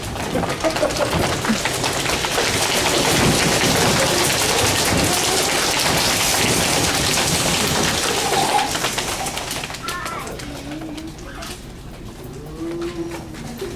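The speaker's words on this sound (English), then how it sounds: "the harder that it rained, the faster the 3 little pigs played their game" Heavy rain pours steadily in a dense hiss, then eases off near the end as a bird coos and animal sounds emerge.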